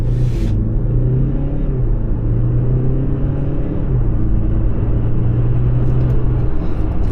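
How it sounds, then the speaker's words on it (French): An Audi Q5 40 TDI with 204 hp, S tronic 7-speed gearbox and quattro drive accelerates on the road from below 20 km/h, a steady loud diesel engine drone with low rumble and a gently rising tone, heard from inside the cabin throughout. "On redescend à moins de 20 km/h et c'est parti, on accélère."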